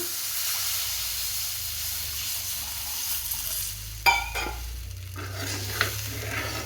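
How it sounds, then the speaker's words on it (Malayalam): Water goes into a hot pan of Kerala karimeen fish curry masala, with a continuous steamy sizzle and hiss and a sudden louder burst of bubbling and spatter partway through, close up with no voices. "നമുക്കിനി ആവശ്യത്തിന് വെള്ളം ചേർത്ത് കൊടുക്കാം."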